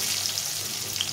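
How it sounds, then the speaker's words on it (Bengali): Potatoes fry in oil in a pan for a Bengali fish curry, a steady soft sizzling hiss with no talk. "আলুটাকে একটু ভেজে নেব।"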